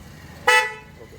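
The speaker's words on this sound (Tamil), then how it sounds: "அப்புறம் ஹாரன் வந்து பார்த்திங்கன்னா உங்களுக்கு வந்து பிளாபங்க் போட்டிருக்கோம்" A single short toot from a newly installed car horn in a Maruti Alto sounds over a quiet background hum, fading quickly after its sharp onset.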